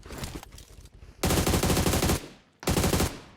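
Gunfire in the PUBG Mobile battle royale on a snowy valley map: loud bursts of rapid automatic shots, one long volley after a short pause and another brief burst, up close and with no talk over it.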